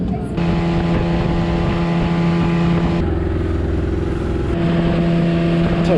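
The engine of a boat carrying passengers to Bako National Park drones steadily at close range, its tone shifting in pitch a couple of times with no voices heard.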